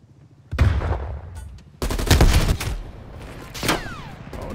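Bursts of gunfire in Call of Duty: Black Ops Cold War: a loud volley, a short pause, then a second, longer fusillade of rapid shots, close and harsh.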